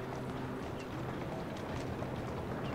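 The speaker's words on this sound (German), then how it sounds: "Aus der fahrenden Kutsche und das Pferd geht ab" A horse gallops off from a moving carriage in the video game Assassin's Creed Syndicate, its rapid clip-clop hoofbeats running steadily and fairly softly throughout.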